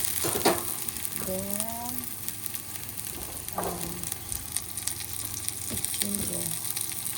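Garlic frying in a hot pan gives off a steady sizzle with scattered crackles and the scrape of a spatula stirring, while a voice speaks briefly now and then.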